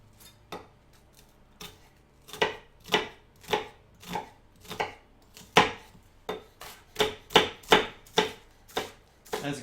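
A dull knife chops repeatedly on a cutting board, about a dozen dull, uneven thuds in loose rhythm, close up and growing louder partway through.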